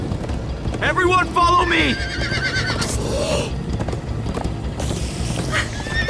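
Horses neigh and whinny loudly while hooves clip-clop at a gallop in the Minecraft: Story Mode video game, with a character shouting and talking over the commotion.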